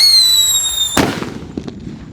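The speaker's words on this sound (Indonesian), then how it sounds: "Lanjut di sini ada Jumbo Whistling Thunder. Kita lihat reaksinya." A Jumbo Whistling Thunder firecracker lit during an experiment with covered firecrackers: a steady high whistle runs for almost a second and ends in one sharp, loud bang, followed by a few fainter crackles and pops.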